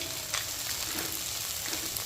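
Cashews fry in a small amount of oil, a steady close crackling sizzle with light popping and faint stirring, no voices.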